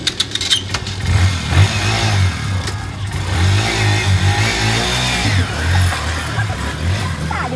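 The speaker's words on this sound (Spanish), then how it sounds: "yo me voy a llevar la moto" A motorcycle engine sputters to life and revs repeatedly up close, its loud rumble rising and falling with voices faintly underneath.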